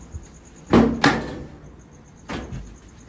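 The door of an LG Kenmore Elite dryer slides onto the dryer body during repair, giving two close, fairly loud metallic scrapes and knocks in quick succession, then a softer clunk a moment later.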